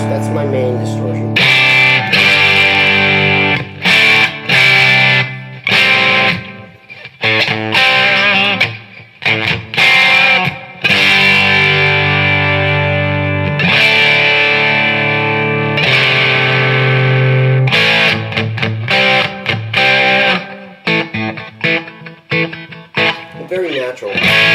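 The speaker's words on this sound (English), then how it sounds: "Okay, the boost, that's my main distortion." An electric guitar, a Squier Telecaster through a boost pedal used as distortion, plays loud driven chords and riffs with short breaks between phrases.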